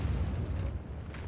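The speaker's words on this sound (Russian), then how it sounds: "Есть выстрел." Artillery fire from an M53/M55 self-propelled gun in World of Tanks: a loud, deep booming rumble rolls on for just over a second without fading much.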